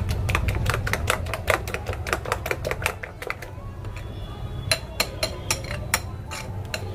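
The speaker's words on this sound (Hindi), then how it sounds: "अब इसको भी हम फेंट लेंगे अच्छे से" Eggs being whisked with chopped coriander in a bowl, a quick run of sharp clinking utensil strokes against the bowl, steady and close, pausing briefly midway before resuming in scattered beats.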